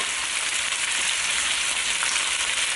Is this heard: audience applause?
no